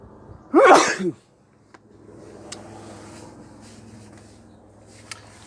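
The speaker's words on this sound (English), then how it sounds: "I'm going to sneeze." A single loud, close sneeze bursts out near the start, followed by quiet room noise with faint small clicks.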